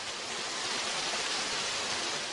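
An artificial indoor waterfall in a hospital gives off a steady, dense rush of falling water, broadband and constant, with no voices over it.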